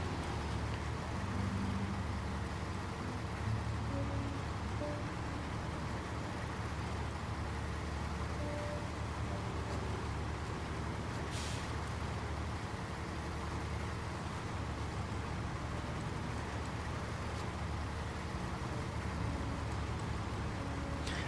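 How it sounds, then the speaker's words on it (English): Truck engine in a driving video game, a continuous low rumble with road noise that stays steady and fairly quiet throughout, with no talk. "I actually do like the engine sound of this truck too"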